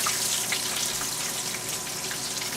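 Cuban empanadas frying in hot oil, a close, continuous bright sizzle and crackle with a steady level and no talk.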